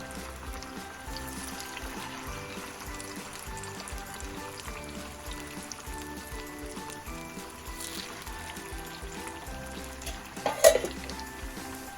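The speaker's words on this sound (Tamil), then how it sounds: "எண்ணெய் சூடானதுமே மசாலாவில் பிரட்டி வச்சுருக்கிற மீனை எடுத்து கடாயில் போட்டு ஃப்ரை" Masala-coated fish frying in hot oil in a kadai, a steady close sizzle and crackle running throughout with a brief louder clatter near the end.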